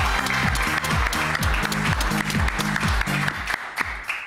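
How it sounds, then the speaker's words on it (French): Audience applause for a talent show contestant on Vous Avez du Talent, a dense, steady wash of clapping filling the whole stretch, with music playing underneath. "Bravo Yasmine, on l'applaudit."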